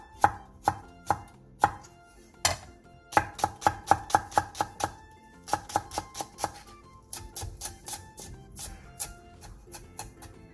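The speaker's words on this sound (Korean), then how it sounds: "청양고추 1개와 홍고추 1개, 대파 3분의 1개를 쫑쫑 썰어주세요." A knife chops finely on a cutting board through chili peppers and green onion in quick, crisp strokes, near and clear. The strokes come in bursts with brief pauses between them, and nobody talks.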